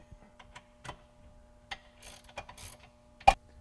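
Soft metallic ticks and clicks of a tool tightening a part during a spring setup install, scattered irregularly and ending with one sharper, louder click, close and quiet with no talk.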